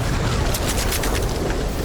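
Rapid bursts of Fortnite gunfire crackle over a dense, noisy background, the shots loud and closely spaced with no talking.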